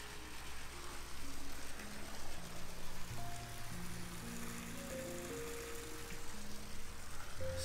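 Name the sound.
backyard pool waterfall splashing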